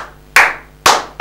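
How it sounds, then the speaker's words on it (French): Congregation at a church exhortation clapping hands in unison: three loud, sharp bursts of group applause about half a second apart, each decaying quickly, with no talk over them. "Applaudissons."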